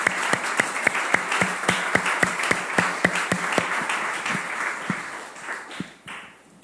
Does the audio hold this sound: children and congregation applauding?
yes